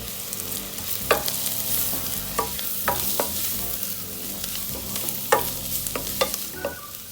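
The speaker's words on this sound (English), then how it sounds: "again mix it very well" Spiced Kerala beef roast masala with coriander, chili, garam masala and black pepper stirred in a frying pan: a soft sizzle under several sharp spatula clicks and scrapes, fairly quiet and close.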